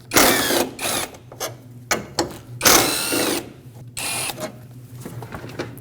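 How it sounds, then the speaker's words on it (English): A ratchet loosening 10mm bolts near the air filter of a 2005-2021 Nissan Frontier with the 2.5L four-cylinder, loud close bursts of fast clicking ratcheting separated by brief pauses, no talking. "Remove those bolts."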